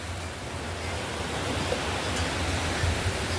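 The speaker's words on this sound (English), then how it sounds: "it's raining." Steady rain falling outdoors, a dense even hiss with a faint low rumble, continuous and moderately loud, with no voices.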